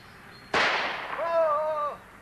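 A single sharp gunshot cracks out nearby and loud, followed by a brief ringing, whistling tail as it fades, alone without talk.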